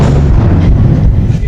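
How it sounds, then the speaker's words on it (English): A door kicked inside Lehman Caves booms like cannon fire, a loud continuous low rumble echoing up from the cavern with heavy reverberation throughout. "Every time she asked him to kick that door, the reverberation coming up from the cavern sounded like a cannon fire."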